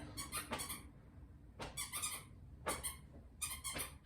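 A squeaky toy squeaked in a home, four separate bursts of two or three rapid high squeaks each, spaced about a second apart, close and fairly quiet with no talking.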